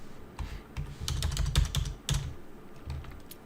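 Keys on a computer keyboard clatter in quick irregular bursts of clicks and thumps, close and moderately loud, with short pauses between runs and no voices.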